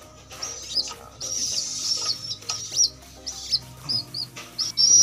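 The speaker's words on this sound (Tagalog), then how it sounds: "Gusto subuhan ng anak niya kalapatids o." Pigeon chicks beg while a parent pigeon feeds them, giving repeated high, thin squeaks and chirps in short bursts close by, over soft rustling.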